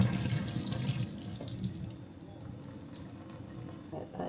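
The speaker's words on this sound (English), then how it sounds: "let's drain the pasta" Pasta water pours out into a kitchen sink, a loud rushing splash at first that thins to a softer trickle, with a brief renewed gush near the end.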